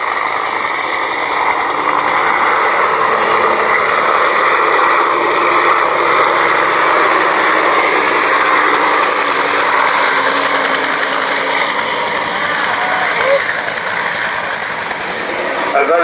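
A helicopter flying display at the Shuttleworth Fly Navy Airshow 2017 gives a steady, loud engine and rotor roar that fills the scene, with a commentator talking over it throughout.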